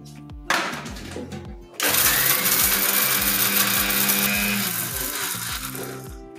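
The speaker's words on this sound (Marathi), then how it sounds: "तर आता ही सूट आणि इलायची आधी पावडर काढून घेते" Mixer grinder whirring loudly and steadily as it grinds sugar and cardamom into powder, after a short opening burst and a brief pause.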